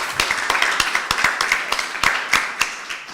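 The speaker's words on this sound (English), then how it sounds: "huge applause." An audience at a startup pitch event claps after a pitch, a brisk and moderately loud burst of applause from a fairly small crowd, with individual hand claps standing out.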